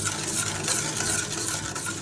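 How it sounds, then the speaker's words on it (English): Sugar being stirred in a pan over low to medium heat to dissolve it, a steady soft scraping and swishing that runs unbroken throughout. "So I'll just give a mix so that this sugar can dissolve."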